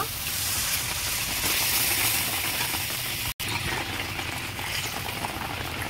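Water poured into curry gravy boils steadily in a pot, giving a close, continuous bubbling hiss with a brief dropout partway through.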